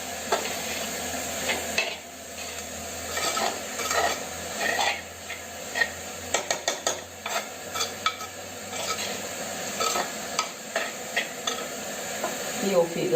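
Bitter gourd thoran being stirred in a pan, a continuous soft sizzle under repeated scraping and clinking of a spoon against the pan, with a cluster of quick scrapes midway, close and fairly steady.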